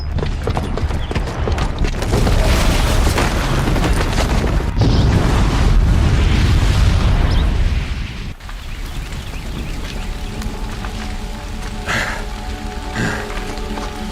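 A booby-trapped bomb goes off downstairs in a Horizon Zero Dawn cutscene set in Meridian: a loud, dense roaring rumble with crackling debris that lasts about eight seconds, then drops to a quieter rushing aftermath.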